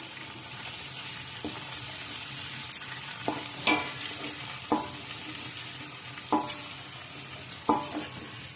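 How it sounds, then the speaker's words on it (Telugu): Carrot, curry leaves and mint fry loudly in a pan, a dense continuous sizzle broken by sharp spatula scrapes and clinks every second or so, close and with no talking. "పుదీనాని కూడా వేసుకొని ఒకసారి మంచిగా ఫ్రై చేయాలి"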